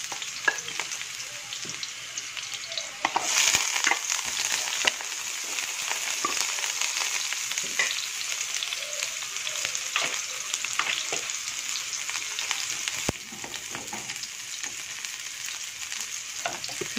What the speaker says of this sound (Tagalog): Ngayon, igisa ko na to siya.